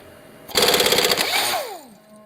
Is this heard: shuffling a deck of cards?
no